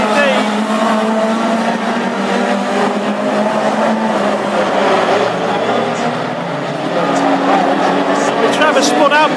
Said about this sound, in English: Trevor spun out by John